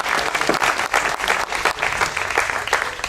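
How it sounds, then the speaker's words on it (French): An audience applauds at a Marianne d'Or award ceremony in Pierrefonds-du-Var, a loud, dense burst of clapping from many hands held steadily throughout, with no voices over it. "On peut le applaudir."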